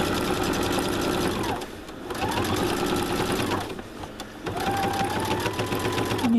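Sewing machine back stitching a tote bag, a close, steady rapid stitching hum in three runs separated by brief pauses.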